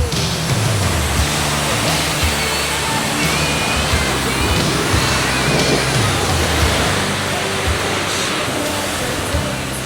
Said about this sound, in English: Let's cool them off a little first with a rinse.